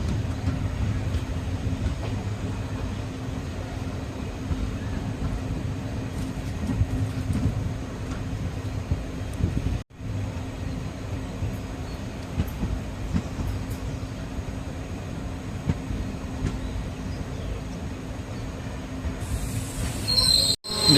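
The Chemmozhi Express passenger train on its Coimbatore to Mannargudi run near Needamangalam rolls past with a loud, continuous rumble of wheels on rails and a faint metallic squeal, the noise holding steady throughout.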